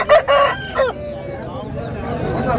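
Aseel fighting rooster at a Saturday cockerel market in Mydukur, a loud close crow with rising and falling calls, followed by faint market noise in the background.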